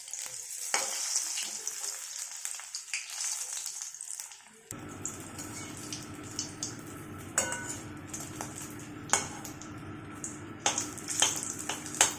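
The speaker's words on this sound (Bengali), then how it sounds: "এবার এক এক করে ফুলকপিগুলো রিফাইন তেলে ভেজে নেব" Cauliflower pieces fry in hot refined oil as pakoras, first a bright thin sizzle, then a sudden fuller, denser bubbling fry as more pieces drop in, with scattered clinks and scrapes of a utensil against the pan.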